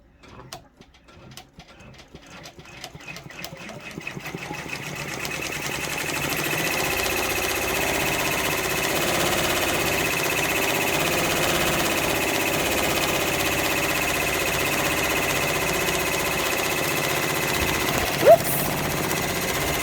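A home embroidery machine stitches the tack-down for an OESD freestanding lace floral pumpkin, starting with a few slow separate stitches that quickly build into a steady, continuous mechanical whirring that carries on throughout.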